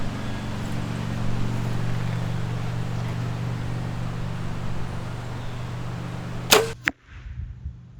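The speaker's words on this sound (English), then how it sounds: "So we're gonna go ahead and go with our first shot." A single arrow is loosed from a Hoyt Enduro bow outdoors and strikes a target. A sharp release and a quick thwack cut through a steady background of wind and hum near the end.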